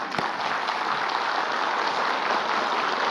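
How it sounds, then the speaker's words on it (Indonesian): An audience at an Islamic religious talk show claps for a newly introduced preacher, a smooth, even wash of applause that holds level throughout. "Tepuk tangan dulu."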